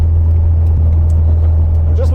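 A Volkswagen Beetle's engine drones steadily at around 3,000 RPM while driving, a loud, constant low hum from inside the car with no breaks.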